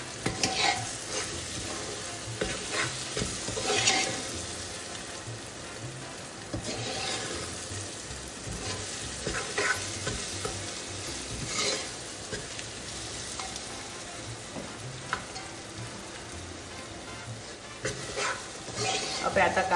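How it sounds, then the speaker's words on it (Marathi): Onions fry in a pan for Goan pork vindaloo, a continuous close sizzle broken by frequent scraping stirs of a spoon against the pan. "पळय आतां कांदो आमचो बरो भाजला न्हू पळय."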